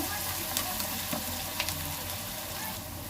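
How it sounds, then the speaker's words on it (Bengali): Onions frying in a pan until reddish-brown, a continuous close sizzle and crackle with occasional faint clicks of a utensil, no speech. "লাল লাল করে ভেজে নেব।"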